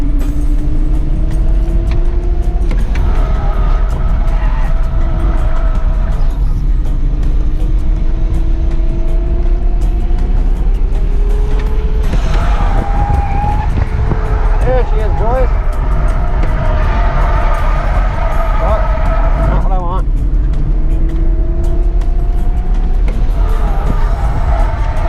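A 150-horsepower car drifting, its engine revving up and down in long swells with tires skidding and squealing, loud and close throughout, with people talking over it.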